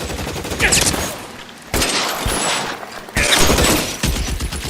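Loud bursts of gunfire in the crime game L.A. Noire Remastered, with three separate clusters of rapid, crackling shots close by, separated by short pauses.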